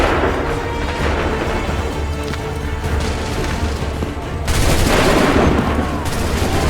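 Musket volleys in Assassin's Creed 3 battle, loud dense bursts of gunfire and booming blasts across a noisy battlefield, with a heavier volley surging near the end.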